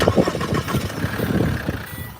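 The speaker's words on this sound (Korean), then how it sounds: "주변 정리를 마쳤으면 엔진오일 필터 하우징에 엔진오일 공급을 위해 시동을 한번 걸어주도록 합니다." A SsangYong Rexton Sports engine is started right after an oil change, giving a loud, close crank that settles into a steady, rumbling idle with a slight uneven pulse.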